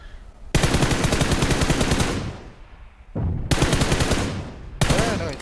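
PUBG Mobile gunfire sounds as loud, close automatic bursts of rapid rattling shots, three long volleys separated by brief pauses, with a low rumbling tail after each.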